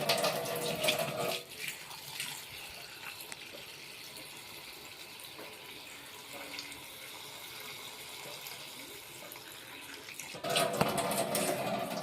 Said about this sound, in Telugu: వాష్ చేసుకొని కట్ చేసుకొని స్టవ్ మీద పెట్టుకుందాం ఫ్రెండ్స్. అలా టమాటా పచ్చిమిర్చి వాష్ చేసుకొని